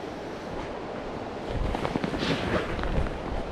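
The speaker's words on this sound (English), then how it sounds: "Oh, and it's windy though." Steady broadband wind rushes and buffets across the microphone outdoors on a fishing trip, swelling louder partway through with gusty rumbling.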